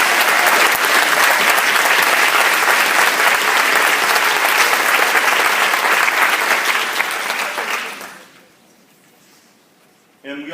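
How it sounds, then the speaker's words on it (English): Loud, sustained applause from a conference audience for marathon sponsors fills the room for about eight seconds, then fades quickly to near silence before a voice resumes. "Would you please join me in giving our marathoners a round of applause?"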